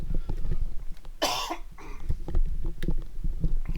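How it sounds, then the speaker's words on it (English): A single loud cough bursts out amid low background noise and rustling, with a smaller throat sound following. "Excuse me, I need to cough."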